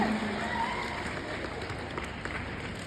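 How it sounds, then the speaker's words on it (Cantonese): An audience at a fan event applauds, a soft, continuous patter of many hands heard from a slight distance, steady throughout with no talking over it. "用掌聲給他們一點力量"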